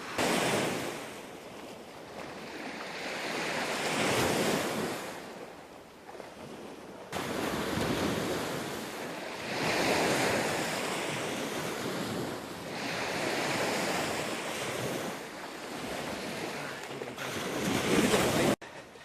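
Sea waves rolling and breaking on an Estonian shore with strong gusting wind buffeting the microphone, surges swelling and fading in slow cycles, no voices.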